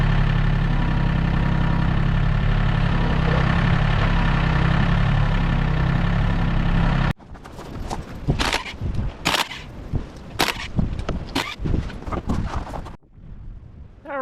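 A John Deere 870 tractor engine idles with a deep, steady rumble while lifting a Bombardier Quest 650 ATV, then cuts off abruptly and gives way to scattered clanks and knocks of nearby work.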